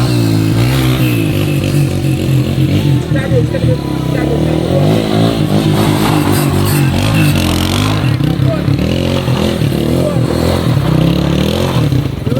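Stunt motorcycles rev hard and continuously at a Sunday gathering at a rural Jamaican amusement park, a loud, dense engine roar with rattling and scraping throughout and voices mixed in.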